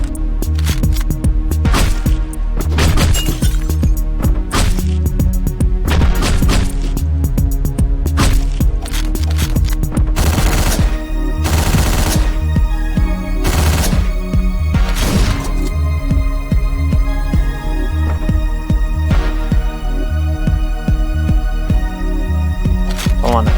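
Gunfire and shotgun blasts from the video game Hotline Miami 2 hit as sharp repeated cracks over loud, continuous synth music throughout.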